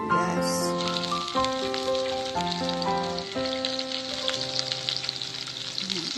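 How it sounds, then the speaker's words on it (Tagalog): Onion and garlic sizzle steadily in a frying pan while cooking pork mechado, a continuous soft crackle that sits beneath louder sustained music throughout. "Igisa muna natin ang sibuyas at ang bawang."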